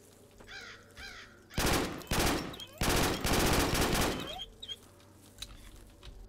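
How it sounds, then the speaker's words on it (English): Gunfire in the game Zero Sievert as shots are fired at walls, several loud bursts of rapid automatic fire in quick succession, with crow-like cawing before them and quieter game ambience after. "No, I'm just shooting at walls."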